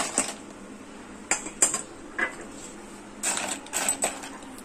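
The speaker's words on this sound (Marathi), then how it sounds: "बघा ह्या आवाजावर ना आता कळते का नाही किती क्रिस्पी झालेत ना आपले" Crispy homemade nachos rattle and clatter in a lidded pan, several bursts of dry, crunchy shaking spaced out, fairly close and alone with no talk.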